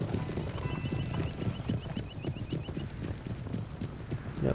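Cavalry horses in Empire: Total War, a dense rolling clatter of hooves with occasional neighs, loud and continuous over a busy battlefield din, with no talking.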